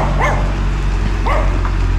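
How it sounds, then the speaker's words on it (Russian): Dogs bark a few times on a street in Golovinka, Lazarevskoye, Sochi, the sharp barks and yips standing out over a constant low background rumble. "Злятся немножко собаки."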